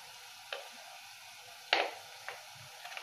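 Quiet sautéing in a pan as cumin powder goes in, a soft low sizzle broken by a few sharp scraping and clinking taps of a spoon against the pan.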